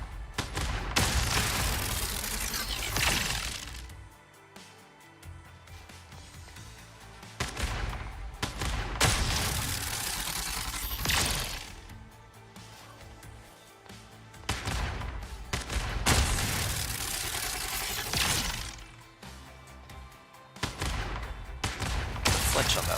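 Turret gunfire in the video game Arknights Endfield, loud bursts of rapid shots in several waves with brief lulls between, dense and continuous over the whole stretch.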